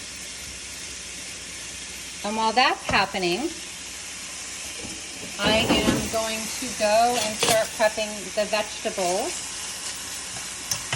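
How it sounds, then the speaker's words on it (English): Pancetta sizzling in a pan over low heat with a little olive oil, rendering its fat for a Bolognese ragù; a steady close hiss runs throughout beneath a person talking at length. "as you can hear it sizzling in the background"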